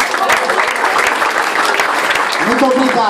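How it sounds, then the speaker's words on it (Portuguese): Applause breaks out for a performer at a children's music circle for African refugee kids, steady dense clapping throughout with voices talking over it and a rising tone near the end. "Vamos tocar palmas para a Mongazi."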